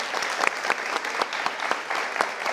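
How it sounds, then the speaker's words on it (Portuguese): A theater audience on its feet gives a standing ovation, a full crowd of hands clapping loud and close with distinct sharp claps poking through the steady roar. "Esse aplauso de pé é para a Bibi."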